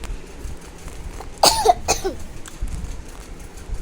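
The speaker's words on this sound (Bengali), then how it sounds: "আবার একটু কাশি হয়েছে" A person coughs a few times in quick succession in a quiet room, close and fairly loud against low background hiss.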